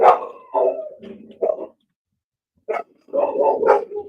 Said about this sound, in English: Dog's on cue. Making a noise.